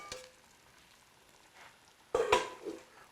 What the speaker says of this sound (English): I got 3 nice scrambled eggs coming in